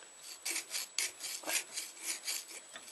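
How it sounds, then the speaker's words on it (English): A steel knife blank being draw-filed with a hand file, close up and alone, a steady series of about ten rasping strokes in an even back-and-forth rhythm. "there's a method called draw filing"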